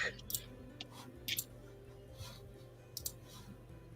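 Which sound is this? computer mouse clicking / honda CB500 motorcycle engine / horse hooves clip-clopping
computer mouse clicking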